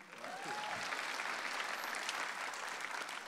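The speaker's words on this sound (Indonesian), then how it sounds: "beri tepuk tangan dulu buat mantan juri kita, Raditya Dika." Steady audience applause fills the room at a comedy roast show, dense and continuous throughout, with a brief rising whistle near the start.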